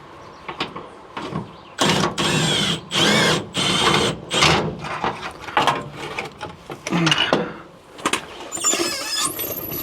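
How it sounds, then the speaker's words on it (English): A hand wrench ratchets during a fuel pump replacement on a third-generation Cummins diesel truck, giving loud bursts of clicking and grinding that stop and start in short strokes, with squeaky mechanical noise near the end. "Got a hand wrench it the rest of the way."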